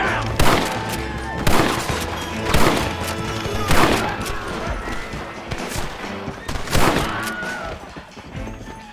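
Gunfire in the video game Red Dead Redemption: repeated loud shots and volleys crack in bursts around 0.5, 1.5, 2.5, 3.8 and 6.8 seconds over a dense battle din, with no talking.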